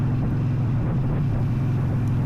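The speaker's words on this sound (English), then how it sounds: "So I think I'm in fourth gear here, and I'll start downshifting." Motorcycle engine drone with a steady low rumble through a downshift from fourth gear, heavy wind noise over the microphone while riding on the road.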